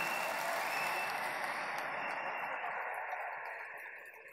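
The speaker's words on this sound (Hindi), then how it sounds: "जोरदार तालियों से इस्तकबाल कीजिए" An auditorium crowd at a mushaira poetry gathering in Sharjah claps to welcome the poet Popular Meeruthi, a broad steady roar of applause that gradually fades in the final second.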